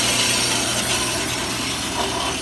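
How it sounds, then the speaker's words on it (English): An Ellis bandsaw cuts through a 1.5-inch cold-rolled steel shaft, giving a loud, steady, continuous grinding hiss with no pauses and no talking. "we get a really nice true edge on the Ellis bandsaw"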